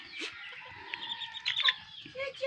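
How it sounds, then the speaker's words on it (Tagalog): Native chickens in a small backyard flock clucking, with soft rising squawks and chatter over faint rustling, close and quiet. "Yan, mga native chicken."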